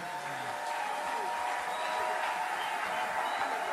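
An audience welcomes guest Michel Bakenda to a morning gathering with sustained, dense applause that stays steady and full from start to finish, with crowd noise mixed in.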